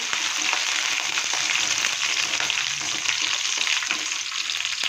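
Green chilies frying in hot oil in a pan with ginger and garlic for tomato chutney, a steady close sizzle throughout with faint stirring scrapes.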